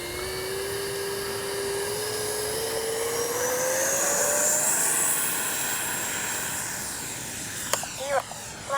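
Freewing 70mm BAe Red Hawk RC jet taking off with its electric ducted fan, a loud, steady whine climbing in pitch as it speeds up and then fading slightly as it departs, with a few bumps from handling near the end.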